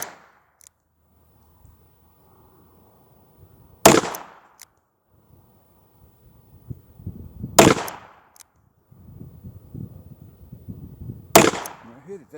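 A Hi-Standard Double Nine .22 LR revolver fires three sharp, loud shots spaced a few seconds apart, and someone talks quietly between them.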